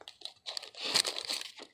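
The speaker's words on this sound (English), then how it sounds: "I'm gonna get my scissors so I can cut this boiling bag open." Scissors cut open a plastic boiling bag that has just been boiled, producing close crinkling, rustling and snipping of plastic in short bursts with no talking.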